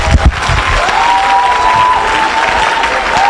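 A church congregation applauds and cheers, a loud, dense wash of clapping with crowd voices that runs steadily from start to finish.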